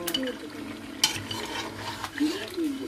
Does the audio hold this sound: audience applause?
no